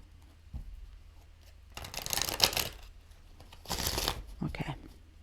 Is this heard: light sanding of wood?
no